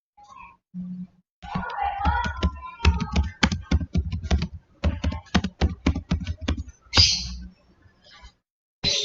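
Keys clatter on a computer keyboard in quick, uneven bursts as commands are typed into a Debian 8 web server terminal, close and crisp, with a brief voice heard before the typing starts.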